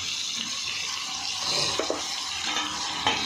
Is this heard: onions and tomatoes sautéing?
yes